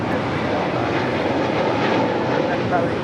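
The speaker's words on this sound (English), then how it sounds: "The 777 coming in from Taipei." A China Airlines Boeing 777 cargo jet arriving from Taipei lands at Los Angeles International Airport, its engines a loud, steady broadband roar that fills the whole stretch, with faint voices in the background.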